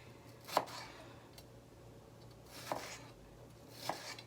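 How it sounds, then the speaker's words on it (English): A knife dices a tomatillo-like fruit on a cutting board for homemade salsa, with three soft, widely spaced chops at low volume and no talking. "this is going to get diced up small just like the rest of my ingredients"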